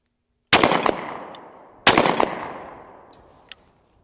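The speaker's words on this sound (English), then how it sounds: "Let's go ahead and take a few test shots." Two loud, close shots from a Browning Citori Hunter 20-gauge over-under shotgun, each a sharp blast ringing out into a long decaying echo, with a faint click near the end.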